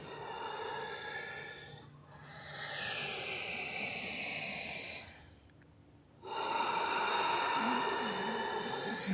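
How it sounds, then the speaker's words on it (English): Deep oceanic breathing during a guided meditation: two long, slow, hissing breaths with a throaty rasp, close and quiet, separated by short pauses, with no speech. "So really come into this oceanic breath, the sound of the breath."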